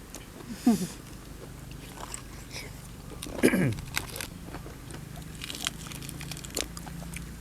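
Large crunchy squid tentacles are bitten and chewed outdoors beside a garden waterfall, with two distinct crisp, close crunching bites a few seconds apart and faint chewing in between, over quiet background ambience.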